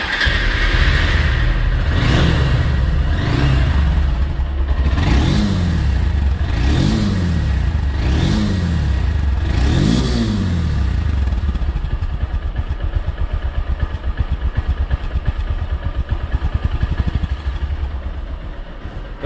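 A 2023 Honda Hornet double-disc motorcycle in showroom condition idles close by, then is revved in a series of about six rising and falling throttle blips before settling back to a steady, loud idle.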